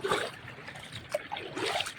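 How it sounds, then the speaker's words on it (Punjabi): Feet wade through shallow water in a flooded field where maize is grown, giving soft trickling sloshes and a few small splashes close by, with no voices. "ਬੜਾ ਮਜ਼ਾ ਆਉਂਦਾ ਪਾਣੀ 'ਚ ਤੁਰ ਕੇ"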